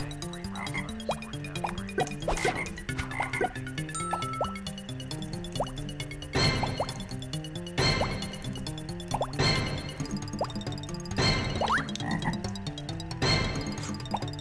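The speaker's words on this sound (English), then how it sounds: "I hear frogs." Frogs croak repeatedly in a video game level, a steady layered chorus of croaks with plopping, watery accents over game music, with no talking.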